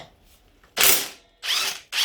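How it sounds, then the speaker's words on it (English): An impact wrench loosening a clutch bolt on a Suzuki DR200 motorcycle, three loud close hammering bursts, the first about half a second long and the next two shorter, separated by brief near-silent gaps. "let me go and get the big impact wrench"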